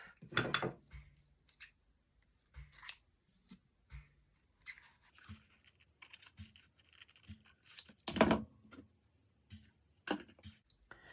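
Scissors snip ribbon on a Christmas gift bag in a few crisp, separate cuts, with quiet handling clicks in between and no talking.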